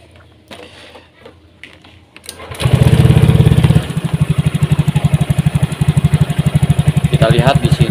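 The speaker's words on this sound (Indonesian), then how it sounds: "sekarang kita hidupkan mesinnya" A Honda Beat Deluxe scooter fitted with a Vario 125 injector turns over and starts at about 2.5 seconds, roaring loudly before settling into a steady, rapid idle pulse close by.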